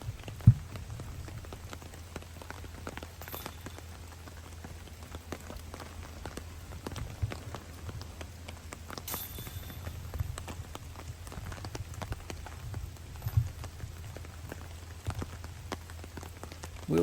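Rain on a golf course, a steady patter of drops on surfaces with scattered sharper taps and a low background rumble, continuous and moderately loud without talk.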